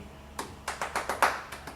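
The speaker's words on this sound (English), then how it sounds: "Oh, yeah, I forgot about the clapping." Hand claps in a song played at a ukulele group meeting, about eight sharp claps in a steady rhythm, moderately loud over a quiet background.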